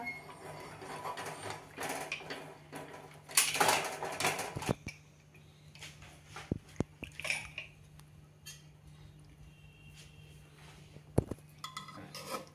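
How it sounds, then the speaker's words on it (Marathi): The lid comes off a cooled pressure cooker holding ridge gourd sabzi in a home kitchen, giving a cluster of metallic clanks and scrapes followed by scattered lighter clicks and taps, with no talking. "आता झाकण काढूया।"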